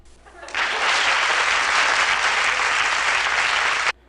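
A burst of dense, loud applause starts abruptly, holds steady for a few seconds and then cuts off sharply.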